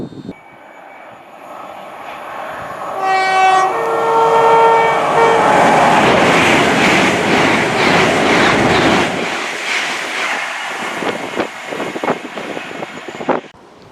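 Train passing through Prestonpans railway station in Scotland, a ScotRail stop on the East Coast Main Line, with a two-tone horn followed by a loud rising rumble and rhythmic wheel clatter that fades as it goes by.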